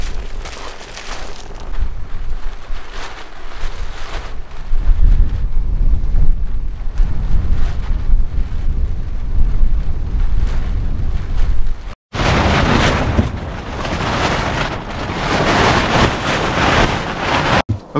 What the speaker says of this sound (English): The wind has been way too bad, so we cannot do it outside like we'd planned.